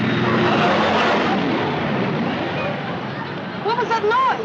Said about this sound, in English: What was that noise? It sounded like a big plane.